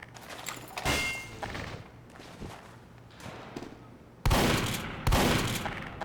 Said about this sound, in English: The shotgun feels nice